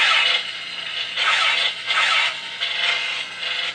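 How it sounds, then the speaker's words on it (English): Blaster-shot effect from a TCG Customs LEGO-style lightsaber, heard as a series of bright, harsh, hissing bursts, about five of them in quick succession, loud and close with no voices. "Here's the sound of the blaster shot."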